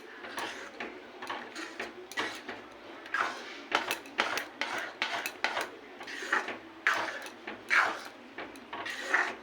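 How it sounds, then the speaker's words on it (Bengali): Metal spoon scraping and clinking against a pot while caramel is stirred into payesh, a Bengali rice pudding with the rice cooked soft. The scrapes come in irregular bursts, close and fairly loud, with no voices. "এটাকে ভালো করে মিশিয়ে নেব"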